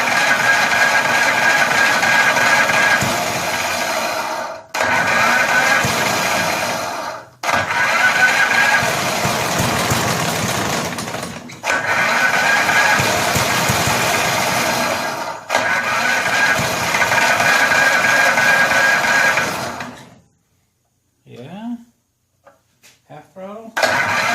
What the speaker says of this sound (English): Let's hold the throttle open. See if she'll start.